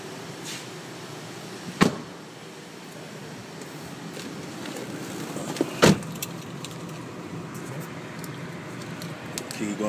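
Someone gets into a 2008 GMC Acadia SLT, with two sharp door thumps a few seconds apart, faint key and interior handling noises, and a quiet hum in the cabin. No one speaks.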